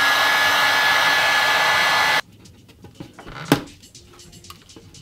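A heat gun blows steadily and loudly on an old guitar bridge for about two seconds, then cuts off abruptly, leaving quiet handling clicks and a sharp knock.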